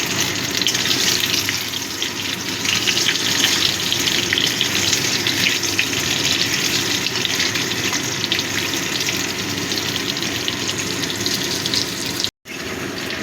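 Potatoes fry in a pan of hot oil until browned, a steady close hiss of sizzling that runs continuously on its own, with one brief dropout near the end.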